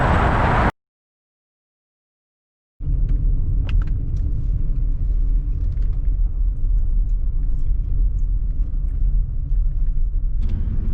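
A car driving on a wintry Midwest road gives off a steady low rumble of engine and tyre noise from inside the cabin. It follows a short stretch of silence and keeps going evenly to the end.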